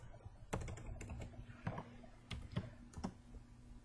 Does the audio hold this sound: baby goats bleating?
no